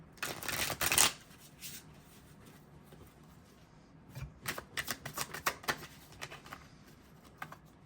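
Tarot cards are shuffled and pulled in quick papery flurries, a burst of riffling followed by a run of soft snapping and flicking, close and quiet with no voices.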